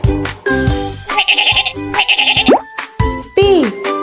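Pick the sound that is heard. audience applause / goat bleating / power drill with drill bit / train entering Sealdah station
goat bleating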